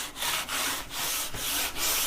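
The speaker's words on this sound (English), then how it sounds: "using our coarse sandpaper, let's go ahead and start sanding this down until we can get it nice and smooth" Coarse sandpaper wrapped on a block is rubbed over the wooden fretboard of a cigar box guitar neck, making steady back-and-forth scraping strokes, about five close, even passes with no talking.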